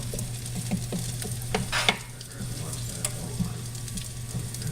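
Garlic parmesan red potatoes being stirred in a sizzling pan, with scraping utensil strokes over a steady frying hiss and a low hum, moderately close.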